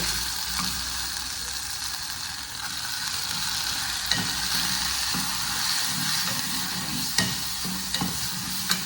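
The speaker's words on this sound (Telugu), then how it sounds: "ఒక్క నిమిషం మాడిపోకుండా వేయించుకోవాలి" Ground spice paste sizzling in hot oil in a pan for a curry, a steady bright crackle with a spoon scraping and stirring through it at intervals, close and moderately loud, no voices.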